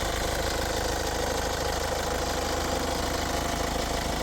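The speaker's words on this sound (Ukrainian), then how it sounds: "давайте послухаємо, як працює двигун" A 2016 KIA Sportage 2.0-litre diesel engine idles steadily with a low, even rumble and faint mechanical ticking, continuous and close, with no voices.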